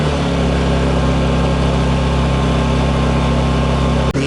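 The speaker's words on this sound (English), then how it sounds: "You could just do nice, easy pulls, and this thing fires right up." A Honda 2200i inverter generator runs steadily after starting, its small engine humming loud and close with a constant low drone and no talk.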